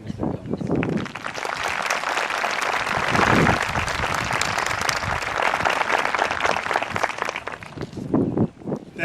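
A crowd at a high school graduation ceremony bursts into sustained applause, a thick wash of clapping that swells and holds for several seconds before thinning at the end.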